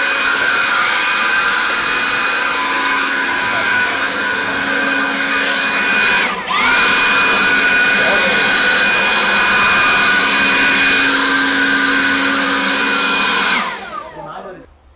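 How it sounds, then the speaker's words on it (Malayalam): A cordless battery-powered leaf blower runs at a steady loud whine for most of the span, dipping briefly midway before resuming, then winding down to silence at the end. "ഒരു പുതിയ അതിനുള്ള ഒരു മെഷീൻ വന്നിട്ട് കോർഡ്ലെസ് ആണ്, fully cordless, battery type, blower അല്ലേ, ബ്ലോവർ ടൈപ്പാണ്"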